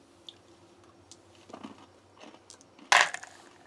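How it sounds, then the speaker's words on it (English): Peanut M&Ms from a military field ration being chewed close up, soft wet chewing with scattered small crunches of candy shell and one sharp louder crunch near the end. "you get that little crunch from the candy shell"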